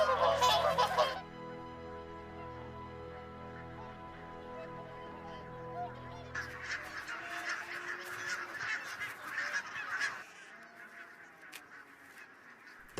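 Geese honk on Islay farmland where they feed on grain, a flock calling in harsh overlapping honks, some nearer and some farther off, with a voice speaking over the birds.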